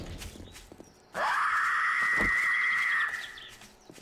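A character screams in the survival game 7 Days to Die, one loud, sustained, close shriek lasting about two seconds, rising sharply and then fading, over a low background with faint thumps.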